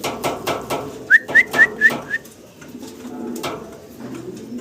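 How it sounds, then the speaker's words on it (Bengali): Danish pigeons at a pigeon farm, heard close up: a run of five quick whistling calls in the middle, with soft cooing and low murmurs before and after. "এটা ড্যানিশ কবুতর"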